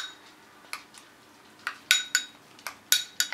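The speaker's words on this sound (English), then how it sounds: "Stir it up." A spoon stirs ground flaxseed into applesauce, making a series of sharp, bright clinks against the bowl at an uneven rhythm, close by, with quiet gaps between strikes and no talk.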